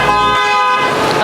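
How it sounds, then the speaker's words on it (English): A truck horn blasts close and loud in a single sustained tone, cut off after about a third of a second, with road noise continuing after it. "he's beeping at the lifts to let him know not to move"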